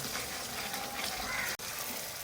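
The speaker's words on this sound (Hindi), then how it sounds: "अब इसकी खूब अच्छी सी भुनाई करनी है ताकि ऑयल वगैरह सब निकल के आ जाए" Masala for egg korma fries in oil, giving a steady hissing sizzle with a brief cut-off partway through, moderately quiet and close.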